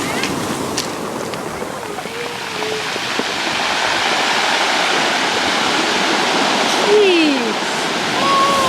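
Huge ocean waves crash and roar against the rocks at Scituate, a loud broadband surf wash swelling steadily, with a surge near the end, while people exclaim nearby.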